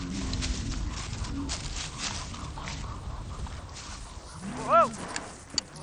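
A horse and rider move among cattle in open country, with soft hoof sounds and scattered lowing under a steady outdoor background, then a sharp rising bellow stands out near the end.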